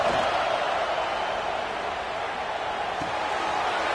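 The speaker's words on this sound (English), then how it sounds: "Here comes the noise from this big crowd in Happy Valley on third down." A big football stadium crowd in Happy Valley roaring on third down, a steady, dense wash of cheering and noise that holds evenly throughout without letting up.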